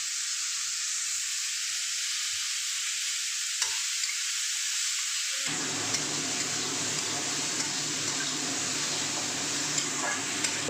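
Salted, rinsed water lily stems are lightly fried in a pan, giving a steady close hiss of hot oil. The sizzle grows fuller and louder about halfway through, with faint stirring clicks and no speech.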